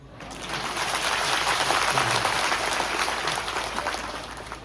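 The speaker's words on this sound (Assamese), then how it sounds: "পংকজ চৰ্দাৰ নামত যদি হাত তালি দিছে অলপ জোৰকৈ দি দিয়ক" A crowd at a BJP booth workers' conference in Dudhnoi claps steadily, the dense, even applause swelling quickly and holding loud for several seconds before easing slightly.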